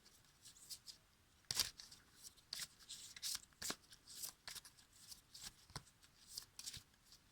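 A deck of cards for a reading gets shuffled in quick, riffling bursts, faint and close, repeating every second or so with brief pauses between.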